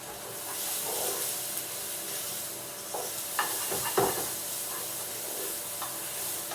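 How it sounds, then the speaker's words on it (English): Quinoa risotto sizzling in a pan with a steady hiss, as a spoon stirs through it with a few soft scraping knocks, close and alone with no talking. "We'll just stir that around a bit."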